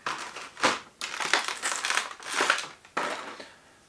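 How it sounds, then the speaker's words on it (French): Plastic packaging around a figure crinkles and crunches as it is unwrapped, close and fairly loud, in several bursts with short gaps between them and no talking. "on va déballer ça tout de suite"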